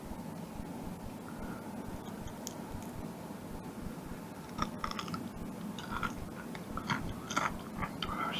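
Crispy salmon fillet skin bitten and chewed close up, a run of small, quiet crunches growing denser and louder toward the end over a faint background hiss.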